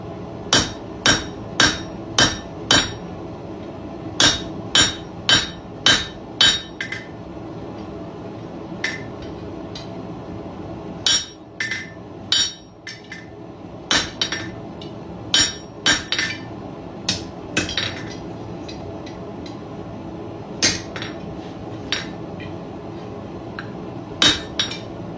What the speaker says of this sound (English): take this lip right here, the top of the nose, put it over the edge of your anvil, and flatten it down